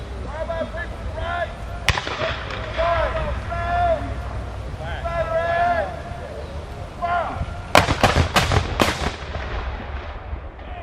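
Civil War reenactment artillery cannons fire during a combined arms demonstration at Corinth, Mississippi: one sharp boom early, then a cluster of heavy blasts and rumbling echoes near the end, with outdoor voices and crowd noise throughout.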